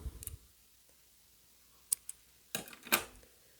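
Scissors snip crochet yarn in a quiet room, a few sharp close clicks near the end with one or two fainter ticks before, and no voices.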